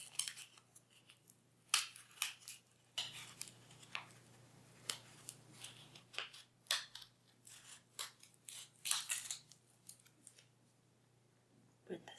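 Scissors snipping through folded paper to cut out snowflakes, a series of quick crisp cuts and clicks at close range, irregularly spaced over several seconds with faint background noise.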